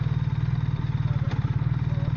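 A BMW R1300RT motorcycle engine idles with a steady, low, even throb, close and fairly loud, with no voices over it.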